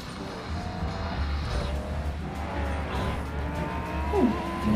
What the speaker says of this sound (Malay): Kita tekan engine start.